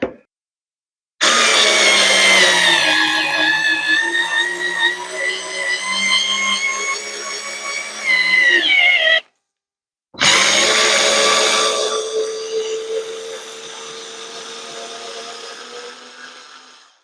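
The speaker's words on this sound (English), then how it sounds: "We're going to actually try and drive a bolt through this." A Ryobi multi-head screwdriver with a socket attachment drives a bolt in two long bursts, its motor whining and straining, with a short pause between the runs and the pitch sagging under load.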